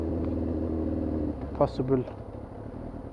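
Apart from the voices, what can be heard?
Yamaha YZF R6 motorcycle engine revving and stuttering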